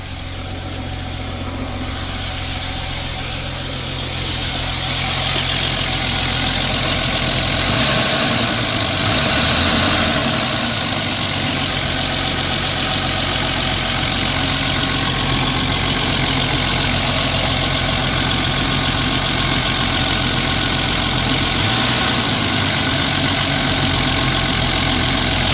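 A 1993 Jeep Cherokee that has been sitting idles high, a loud steady engine drone with a constant low hum and a slight shift in pitch partway through, running alone with no talk.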